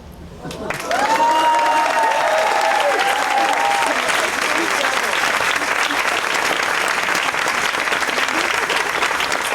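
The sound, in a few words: audience applause in a performance hall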